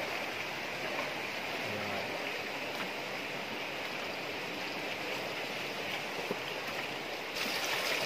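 A river flowing steadily with a broad, constant rushing wash of water close by, unbroken for the whole stretch and with no voices over it.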